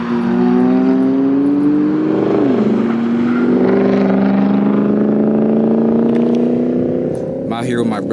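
Cars circling a race track during a track day at Streets of Willow, heard as a loud sustained engine drone with shifting pitch as they pass at a distance, filling the whole stretch.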